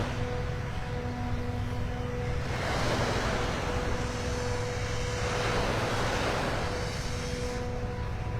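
Steady blower drone near a beach on Vanderbilt Beach in North Naples, Florida, a continuous hum with a sustained tone running throughout, mixed with surf and wind rushing, no talk.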